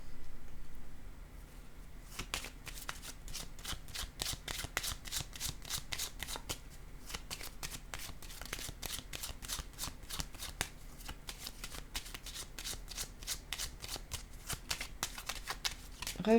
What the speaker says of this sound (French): Je vais déposer une carte sur ces trois-là.